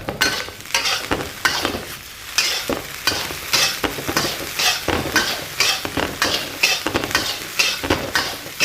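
Rice is stir-fried in a pan for Fujian seafood fried rice, with loud, continuous rhythmic scraping and clattering of the spatula against the pan over a sizzling hiss, close up.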